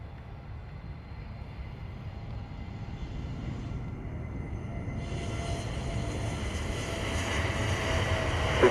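A Virgin airliner on final approach to runway 07 at Sangster airport in Jamaica, a steady distant jet roar that slowly swells and brightens as it draws nearer, with no voices.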